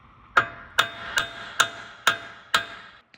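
Six sharp, evenly spaced metallic hammer blows on a Range Rover suspension arm being driven out, ringing briefly after each strike, close and loud with no talk.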